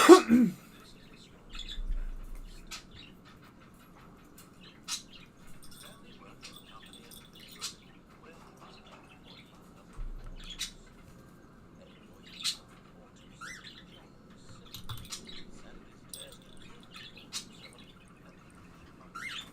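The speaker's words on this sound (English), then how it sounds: "Excuse the noises in the background. I have birds, and there's nothing I can do to shut them up" Pet birds in a room give sporadic sharp chirps and short squawks scattered through a quiet background, some louder than others, with a few low thumps and no clear talking.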